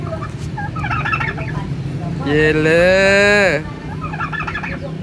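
A large turkey on a farm gives one loud, rapid gobble in the middle, close by, with other farm birds clucking and people talking around it before and after.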